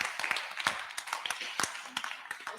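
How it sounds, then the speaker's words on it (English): Scattered applause from the audience at a legal conference in Lagos, a moderate patter of claps running for a few seconds with irregular rhythm and voices murmuring underneath. "A round of applause for that."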